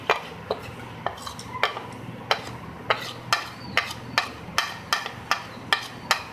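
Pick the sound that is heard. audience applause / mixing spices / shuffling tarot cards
mixing spices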